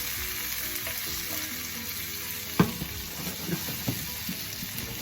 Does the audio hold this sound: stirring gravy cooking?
yes